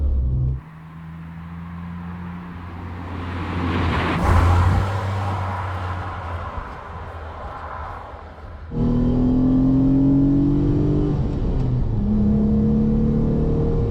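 A Renault Clio V6 Phase 1 engine drones loudly and steadily as the car is driven, easing off briefly before the revs climb again with rising tones near the end. No one speaks.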